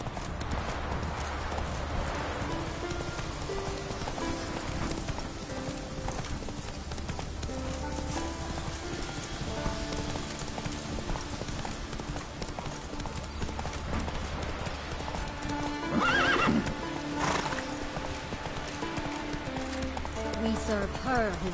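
The horse Roach moves along with hooves clip-clopping in a steady rhythm and a brief whinny near the end, all under continuous music.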